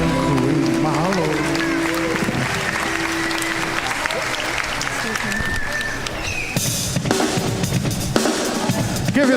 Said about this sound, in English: round of applause for your main night king and queen